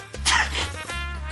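A single sharp sneeze bursts out near the start, loud and close, followed by a quieter indoor background in a Turkish period drama scene.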